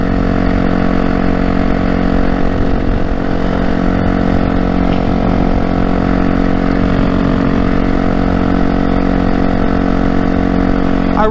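A motorcycle engine runs steadily and loud throughout, a constant droning hum with a strong low rumble and no break in tone.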